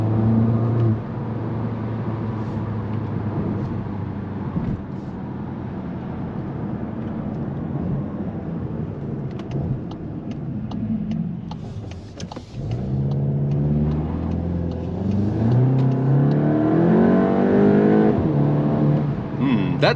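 VW Golf GTI MK8 with a 300 hp RaceChip tune accelerating on an unrestricted autobahn, its steady engine drone under road noise rising in pitch through the gears in the second half, with talk over much of it.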